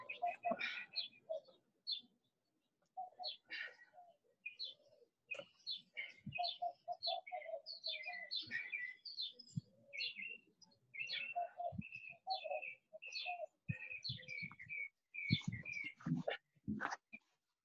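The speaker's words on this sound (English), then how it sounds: "I love hearing all the birds there." Birds chirping outdoors, several small birds giving bursts of high tweets and short calls over about eighteen seconds, fairly close and clear, with brief gaps of quiet and a few sharp knocks near the end.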